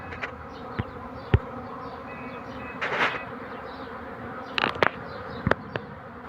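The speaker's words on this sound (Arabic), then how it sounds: "هيجمع برضه على البرواز التاني النحل وبعد كده ننزله برضه في نفس الخلية" A honeybee swarm, taken down from a tree, is being settled onto hive frames. It makes a steady close buzzing with a few sharp knocks and bumps from handling the frames.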